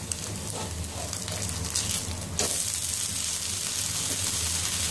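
Rava dosa batter of all-purpose flour, rice flour and rava with black pepper and cumin crackles on a hot pan, a steady close sizzle that briefly sharpens midway.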